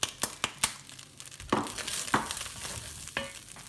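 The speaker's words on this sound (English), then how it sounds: "Now in with our dry spices and garlic." Dry spices and garlic are stirred into a hot frying pan for a beef brisket chilli, with a quick run of sharp scraping clicks followed by slower stirring strokes over a soft background sizzle, close and clear, no talking.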